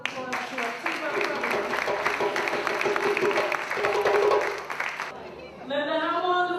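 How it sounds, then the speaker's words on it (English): Audience applause at a Kwanzaa celebration: steady, dense clapping from a crowd for about five seconds, then it stops and a voice starts talking. "we want to give them another round of applause to our team"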